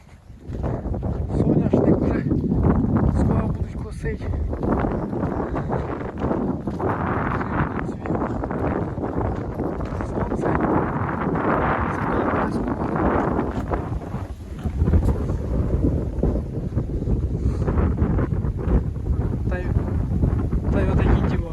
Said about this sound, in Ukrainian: Не знаю чи чути, бо тут вітер взагалі страшенний